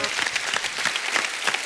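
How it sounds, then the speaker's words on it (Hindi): Audience applause at a live comedy show, steady dense clapping filling the room for under two seconds with no speech over it. "जोरदार तालियां"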